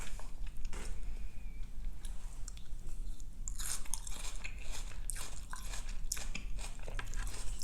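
Vinegar-pickled onions are eaten alongside steak pho, close-up chewing with crunchy bites and wet squishing mouth sounds, steady and intimate with no talking.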